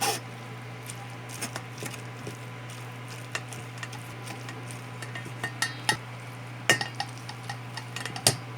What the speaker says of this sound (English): So while I'm doing the mash, it's already being strained as well.